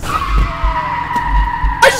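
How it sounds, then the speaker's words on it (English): A car in a horror video game skids and strikes the player, with rumbling engine surges, a long tire screech and a sharp impact burst near the end, under a raised voice. "I just got hit by the car!"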